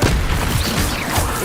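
A Stupefy spell lands in a Hogwarts Legacy battle, a dense booming impact that swells and rumbles continuously for a second and a half amid loud, busy combat effects.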